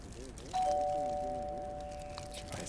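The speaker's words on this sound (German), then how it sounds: "Es klingelt ja an der Tür." A doorbell rings in the horror video game Fears to Fathom: Woodbury Getaway, a single clear two-tone chime that rings out and decays slowly over quiet room ambience, with a soft voice underneath at the start.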